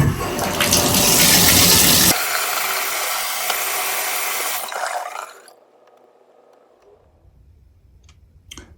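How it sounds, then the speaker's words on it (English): A shower valve is opened on a dripping shower and water rushes loudly, shifting tone partway through, then the tap is shut and the flow fades to a faint trickle and near silence. "So let's turn the water on, let it run for a moment, and then turn it back off and see if the drip stops."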